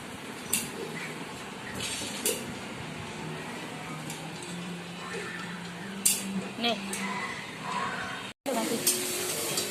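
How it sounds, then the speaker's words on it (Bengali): Spices sauté in a pan on a home stove with a steady, close sizzling hiss and occasional clinks and stirring, while a person talks over it. "আর এটা মশলা কষা হচ্ছে"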